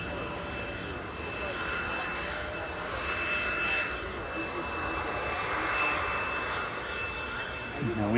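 An EasyJet jet arriving from Geneva rolls off the runway at Manchester Airport, giving a steady, moderately distant engine roar with a thin whine. A faint low sound sweeps up at the very end.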